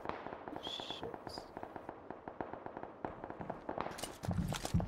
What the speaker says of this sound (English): That is some fucking gunfire.